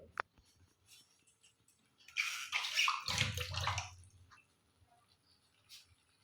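Running tap water splashes over something being washed during home cooking, a burst of a couple of seconds that stands out clearly against a quiet kitchen with no talking.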